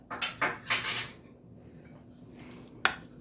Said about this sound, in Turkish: Hepsini karıştırıyorum.